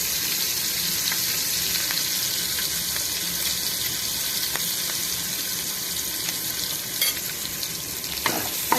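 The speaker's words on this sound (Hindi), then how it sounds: "मैदे को घी में अच्छे तरीके से हम भून लेंगे।" Maida flour roasting in melted butter in a pan for white sauce pasta, a steady close sizzle with faint scraping stirs and no talk.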